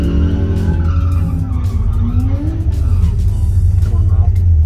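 A 1967 Datsun does a burnout at an outback burnout competition, its tires skidding and squealing continuously over a loud, roaring engine that holds steady for the whole clip.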